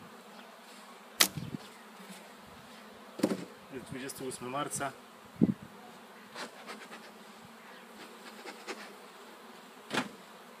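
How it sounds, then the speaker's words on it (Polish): Honeybees fan at the entrance of a polyurethane hive during a spring inspection, a soft steady buzz with a few louder bees passing close by, while someone speaks briefly in Polish. "Widać, że pszczoły na wlotku wentylują."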